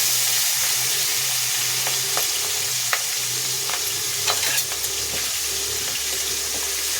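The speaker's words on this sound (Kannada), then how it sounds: "ಎಲ್ಲ ಒಗ್ಗರಣೆಯಲ್ಲಿ ಚೆನ್ನಾಗಿ ಫ್ರೈ ಆಗಬೇಕು ಈ ರೀತಿಯಾಗಿ" Oil sizzles steadily in a pan, with occasional crackles and spoon scrapes as mustard seeds, turmeric, curry leaves, green chillies and ginger fry close up.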